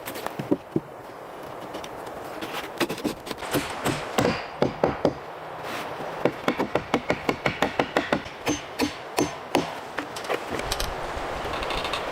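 Nails are driven into small wooden blocks set between floor joists in a wilderness cabin build, with scattered hammer blows giving way to fast, steady runs of sharp strikes over a light outdoor background.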